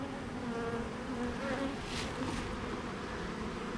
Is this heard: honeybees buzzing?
yes